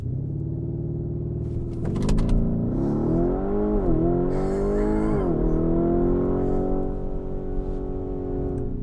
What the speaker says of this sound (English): mash the gas, it'll let me know that launch control is activated and we'll be good to go.